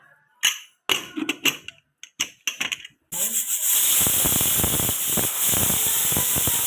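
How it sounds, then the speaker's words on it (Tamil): After a few short clatters, a pressure cooker cooking mutton head curry bursts into a loud, steady hissing whistle of escaping steam that carries on without a break. "குக்கரை மூடி 5லேருந்து 6 விசில் விட்டுக்கலாம்."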